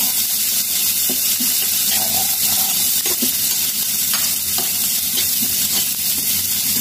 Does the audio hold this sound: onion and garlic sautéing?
yes